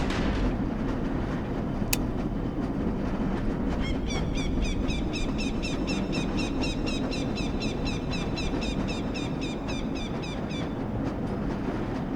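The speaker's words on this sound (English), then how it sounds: "This lever-controlled train will transport you to a location where your training associates are waiting for you." A lever-controlled train in the Black Mesa hazard course rolls along with a steady, loud rumble, overlaid midway by a rapid series of bright metallic clicks and ticks in an even rhythm.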